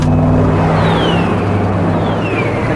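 A car drives away in the zombie-outbreak film World War Z, its engine giving a steady, close rumble with a low droning hum that holds throughout, with no voices over it.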